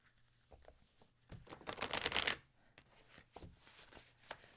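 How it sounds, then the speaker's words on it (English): Tarot cards are shuffled by hand at close range, with soft papery riffles and taps building to a dense flutter of cards in the middle before trailing off into a few scattered shuffles. "I'll let you shuffle."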